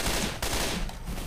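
SCAR rifle fire in Left 4 Dead 2, rendered as a dense, loud burst of rapid gunshots with no pause.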